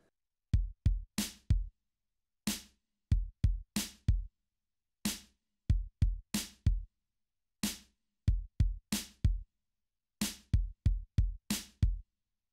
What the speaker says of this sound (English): Now I will show you the snare drum sound together with the kick drum.